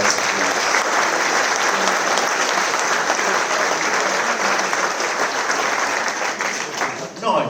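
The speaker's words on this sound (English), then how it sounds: "Give them another round of applause." Loud, sustained applause from a charity concert audience for a quartet, a dense wall of clapping that holds steady before thinning slightly near the end.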